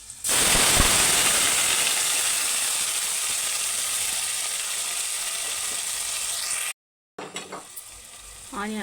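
Chopped onions, green chilies, coriander and mint hit hot oil in a pan for mango moong dal, giving a loud, sustained sizzle right from the start that slowly eases. A brief silence follows, then stirring and talk.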